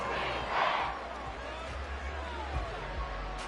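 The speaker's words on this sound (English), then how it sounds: "The Arrowhead crowd in full roar" A stadium crowd roars at an American football game at Arrowhead Stadium, a broad sustained roar that swells briefly and stays loud throughout, heard without commentary over it.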